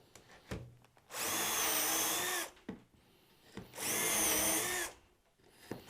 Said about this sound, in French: je vais juste fraiser un tout petit peu, puisqu'en fait la vis, la tête de vis, il faut surtout pas qu'elle soit